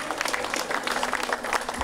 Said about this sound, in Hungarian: Kérem, fogadjuk őt nagy szeretettel és tapssal.